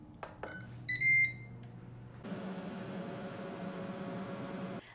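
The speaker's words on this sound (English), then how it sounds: "Now the air fryer is done cooking" A Ninja Crispi Pro air fryer sounds a short set of clear electronic beeps when its cooking cycle for hard-boiled eggs ends. The beeps are followed by a steady fan whir that stays on under the rest of the moment.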